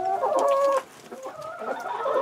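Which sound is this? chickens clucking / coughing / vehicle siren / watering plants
chickens clucking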